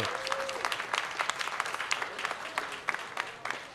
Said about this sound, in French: On va pouvoir les applaudir